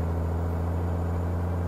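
Steady engine drone of a Peterbilt 387 truck cruising in Euro Truck Simulator 2, with a faint thin turbocharger whistle riding above a low constant rumble, even and unbroken throughout.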